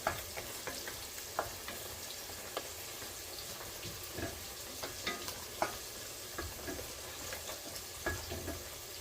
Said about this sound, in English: Giving all those spices a stir, get them all woke up.